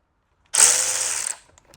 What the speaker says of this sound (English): I'm going to bit by bit go around the whole outside of this and remove all of those bolts.